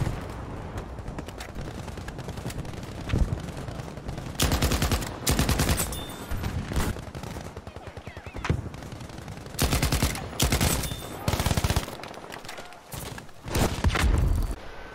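An M1922 MG machine gun fires in the video game Battlefield V in several sustained automatic bursts of rapid, loud, close shots, separated by brief pauses with faint movement and single shots between.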